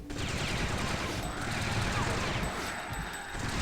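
Rapid game gunfire rattles in the action title Fear Effect, dense bursts of shots running nearly nonstop at moderate loudness, with someone talking faintly over parts of it.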